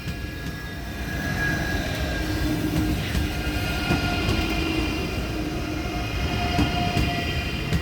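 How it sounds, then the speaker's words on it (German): An ICE train bound for Ingolstadt moves through Munich main station, a continuous loud rumble of rolling stock with faint ringing squeals and light clicks, building after a second and holding steady, with no voices. "Das ist der ICE Ingolstadt."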